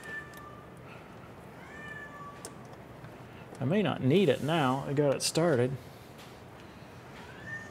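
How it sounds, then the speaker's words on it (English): Cat meowing indoors, a series of loud, wavering cries near the middle, close by, while someone talks around it. "Cat, I think, wants to go out or something."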